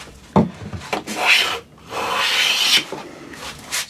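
A hand plane shaves wood stock for a cupboard door, making broken, rasping strokes in three or four uneven bursts with short gaps between, close and fairly loud.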